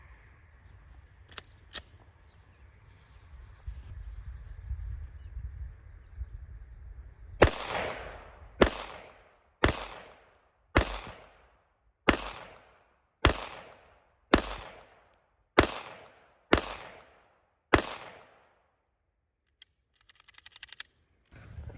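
A SIG P365 pistol fires a string of about eleven evenly spaced shots at a range using 21-round magazines, each crack sharp and loud with a short decay, after a stretch of low rumbling handling noise.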